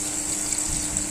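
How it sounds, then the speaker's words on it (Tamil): Water poured into a pot while making rasam, an Indian soup: a steady, continuous gush and splash heard alone for about a second. "இப்போ பார்த்திங்கன்னா நம்ம இதில் தேவையான அளவு தண்ணி ஊற்றிக்கலாங்க"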